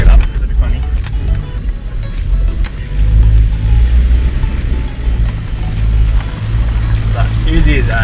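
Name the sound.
4WD vehicle slowly crawling up steep track in low range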